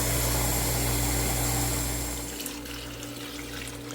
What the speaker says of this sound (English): So put some water in your tomato sauce can